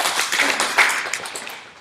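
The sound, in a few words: audience clapping for Thaddeus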